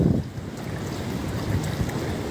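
Strong cyclone wind roaring over surging tidal floodwater pouring into the seaside town of Digha during Cyclone Yaas, a steady, loud, continuous rush of gusts and churning water with no voices.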